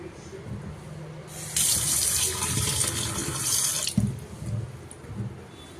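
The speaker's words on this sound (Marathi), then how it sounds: "अशा प्रकारे पाण्यामध्ये आपण स्वच्छ धुवून घ्यायचे" Peeled drumstick pods and potatoes are rinsed under a running kitchen tap, the steady splash of water starting partway through, continuing for a few seconds, then stopping with handling sounds.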